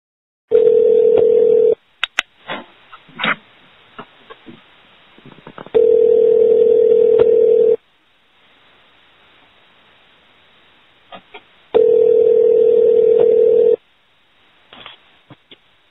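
A telephone call being placed: three loud, steady dial or ringback tones of about two seconds each, separated by quiet gaps with faint clicks and line noise, heard alone without talk.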